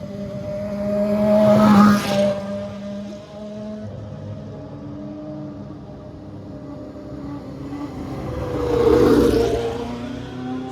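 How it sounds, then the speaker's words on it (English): An Arrows Formula 1 car sweeps past trackside at the Spa circuit in heavy rain. A loud engine rises and fades near the start, a quieter stretch follows, then a second loud pass builds and dies away near the end. "We've got an Arrows Formula 1 car"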